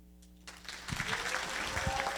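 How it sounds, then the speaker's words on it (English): Applause from an audience breaks out after a brief quiet moment, a steady wash of clapping hands that holds at a moderate level. "a round of applause for Dana."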